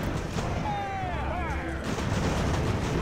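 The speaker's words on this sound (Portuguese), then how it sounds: "Agora vai ter uns caras que estão atirando aqui." Troops fire muskets and cannon in the video game Ultimate General: American Revolution, a steady rumble of gunfire and booms running throughout beneath a voice and rising tonal sweeps.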